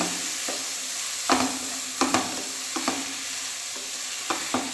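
Cooked rice being stirred into a hot pan, a continuous sizzle broken by several sharp scraping strokes of a spoon against the pan, close and clear.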